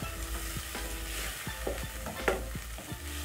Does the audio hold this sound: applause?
no